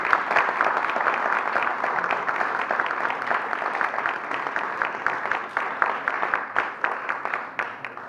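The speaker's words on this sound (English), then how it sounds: "So I want to give them a round of applause." An audience at a Jewish heritage event in the U.S. Capitol gives sustained applause, a dense wash of many hands clapping that continues throughout and thins into more distinct individual claps toward the end.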